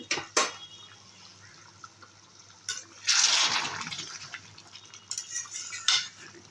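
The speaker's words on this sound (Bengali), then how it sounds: "এখানে আমি গরম জল দিচ্ছি" Hot water poured into pan-fried chicken curry with egg, a sudden splashing rush of a few seconds amid scattered metal spoon clinks and stirring scrapes against the pot before and after.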